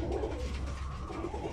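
Diamond doves, small birds, give soft low cooing calls in a steady, close, continuous murmur, with no voices over them.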